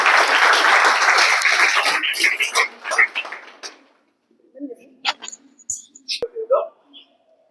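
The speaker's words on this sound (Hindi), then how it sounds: "जोरदार तालियों से इनका स्वागत करें" Loud applause from a crowd fills the opening seconds, then fades out into scattered claps and a brief pause before a voice begins.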